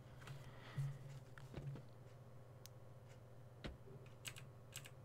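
Quiet, scattered clicks of computer keyboard keys during a GTA San Andreas multiplayer session, a few separate taps against a low steady hum.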